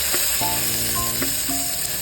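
Tomatoes, onion and garlic sauté in ghee with a constant close sizzle and short tonal clinks from the utensil over two seconds, with no speech.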